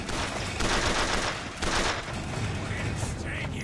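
Heavy gun firing in the video game Bioshock, a dense, loud barrage of blasts and booms continuing throughout, with voices mixed in.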